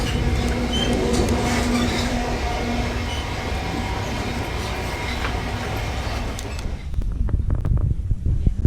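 Interior of a moving passenger train bound for Penzance, steady rumble and rail clatter with faint squeals, easing into a quieter, sparser rolling sound near the end.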